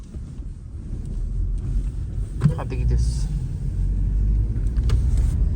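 A car rolls past on the right on a snowy road in Zonguldak, a low rumble that swells and lingers beneath people chatting.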